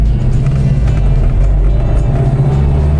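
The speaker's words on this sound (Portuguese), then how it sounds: "é bacana o som do V4." Saab 96 with its V4 engine running, a steady loud low rumble with an even, regular pulse throughout, close to the car and without talk.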